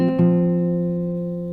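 Acoustic guitar notes are picked in a C-based pattern: a couple of quick plucked notes ring together into a sustained, resonant chord that slowly fades, close and alone.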